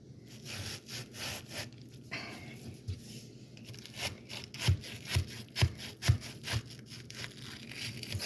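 A knife slicing through a whole watermelon, with scraping, sawing strokes and a run of soft rhythmic thuds as the blade cuts through the rind, close and moderately loud.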